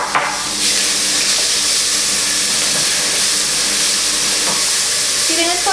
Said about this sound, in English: You're going to saute this until the onions translucent.